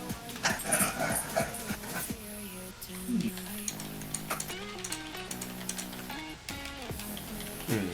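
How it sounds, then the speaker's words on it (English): Two dogs play on a bed indoors, with scattered yips, whimpers and scuffling close by, over a person talking. "I have 3 dogs in here, and 2 of them are just playing on the bed"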